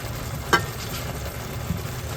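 Cured pork tocino fries in a pan, giving a steady low sizzle throughout with one brief sharper crackle or clink near the start; no one speaks.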